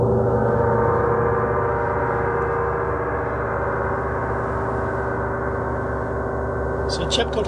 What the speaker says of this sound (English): we have here a gong which is actually tuned to the frequency of the earth